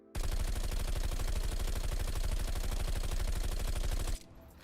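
A Bizon submachine gun in Call of Duty Black Ops Cold War fires one long unbroken automatic burst of rapid, loud, evenly spaced shots for about four seconds, then stops abruptly, no voices.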